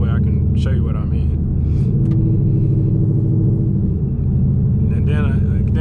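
A Ford Mustang with a 10-speed automatic accelerating on a road, its engine a steady loud low rumble inside the cabin with brief higher-pitched bursts, under someone talking.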